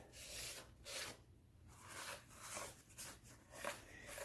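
Shop towels with brake cleaner wipe the surface of a junkyard Subaru STI engine's cylinder head, giving soft, faint rubbing strokes that repeat in an uneven rhythm with short pauses between them.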